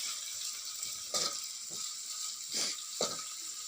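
Golden onions and freshly added curry leaves sizzle in a pan with a steady bright hiss, broken by a few louder bursts as the mixture is stirred; no voices.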